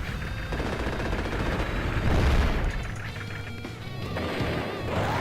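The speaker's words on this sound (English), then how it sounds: "I was trying to avoid the annoyance of having to deal with the artillery shooting." Artillery fire in the strategy video game Advance Wars: Days of Ruin, a dense run of rapid booms and gunfire-like bursts holding steady and loud throughout, with no talking.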